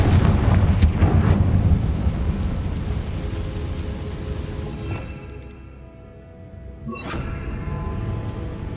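Confringo fire-blast spell cast in the Hogwarts Legacy video game, a loud booming explosive burst with rumbling low end, followed by fading game ambience and a second sharp magical hit near the end.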